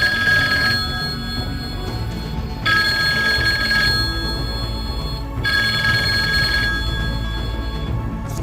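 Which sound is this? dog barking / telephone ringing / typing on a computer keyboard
telephone ringing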